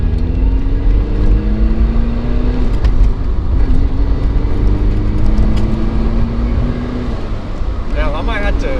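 Turbocharged Mazda Miata NB with an aftermarket turbo kit accelerating, a rising engine drone climbing in pitch over several gear pulls, ending in a short sharp blow-off valve burst, with people talking over it inside the car.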